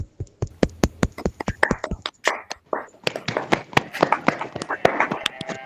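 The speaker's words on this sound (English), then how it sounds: "Can we have a round of applause for Abhay?" Audience applause for a student's speech at a school National Youth Day celebration: scattered, distinct claps that thicken into fuller clapping, with some talk mixed in.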